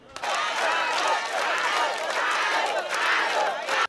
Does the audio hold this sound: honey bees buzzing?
no